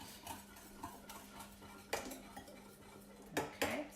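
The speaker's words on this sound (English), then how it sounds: "give it another little whisk." A utensil whisking chia pudding ingredients in a bowl, quiet repeated clinks and taps against the bowl at an uneven rhythm over a faint low hum, close by, with no talking.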